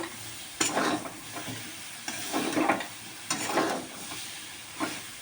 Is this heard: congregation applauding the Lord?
no